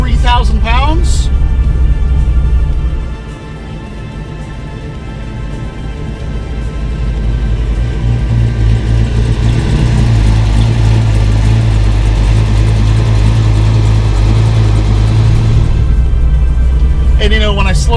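A 1970 Chevrolet Nova with a roughly 600-horsepower big-block V8 rumbles steadily while driving, its deep engine drone dipping briefly then swelling back and holding loud throughout, with someone talking over it.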